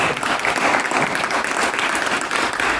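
An audience at a round-table event applauds, with dense, steady clapping from many hands filling the whole short stretch at close range.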